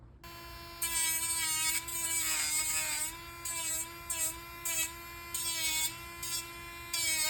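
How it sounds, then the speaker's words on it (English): A Dremel rotary tool grinds a plastic action figure arm part in a steady high-pitched whine, switched on and off in repeated bursts of varying length. "So we do need to keep Dremeling some more."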